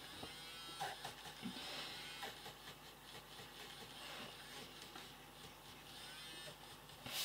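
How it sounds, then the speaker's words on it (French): A battery-powered electric eraser with low batteries buzzes in short, uneven bursts close by while used on makeup artwork. "si vous l'entendez au bruit de ma gomme électrique, je n'ai toujours pas changé les piles"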